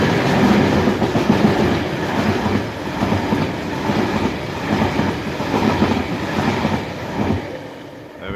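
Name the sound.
Network Rail ballast train passing on the WCML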